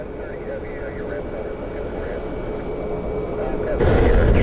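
A Delta airliner taxiing at Orlando International Airport gives off a steady low engine rumble and hum. The sound swells louder near the end, and a voice talks over it faintly.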